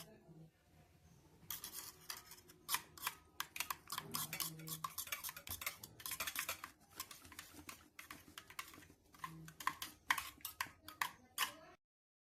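Egg mixture for an omelette is beaten in a bowl, producing a rapid run of light clinks and taps from a utensil against the bowl, fairly close and steady, with brief pauses.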